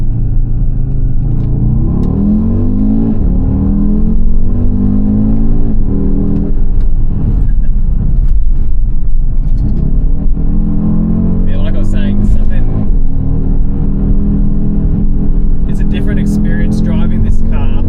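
Audi RSQ3 Sportback cruising on the road, with steady engine and tyre rumble throughout, brief revs, and a person talking over the drive.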